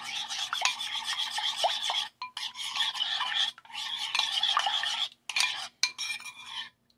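A spoon stirs a homemade honey beauty mixture in a small bowl, making steady close scraping and rubbing strokes in bursts with brief pauses, no talking.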